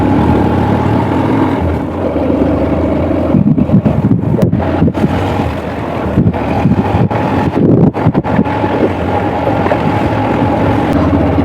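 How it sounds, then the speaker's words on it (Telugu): Strong hilltop wind at Horsley Hills roars without pause and buffets the microphone in heavy rumbling gusts for several seconds, with no voices. "ఫుల్ హెవీ గాలి అయితే తోలుతా ఉంది"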